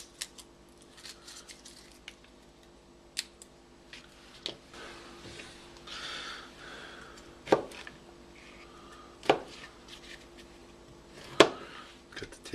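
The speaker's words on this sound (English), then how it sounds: "I'm going to mince my garlic up small." A kitchen knife cuts peeled garlic cloves on a board for slow-cooked BBQ pulled pork: sparse, close, crisp chops at irregular intervals, with a few louder knocks toward the end.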